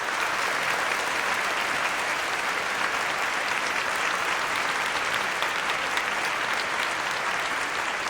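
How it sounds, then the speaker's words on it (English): Steady, dense applause from a crowd, even in loudness throughout with no pauses. "Let's give a round of applause,"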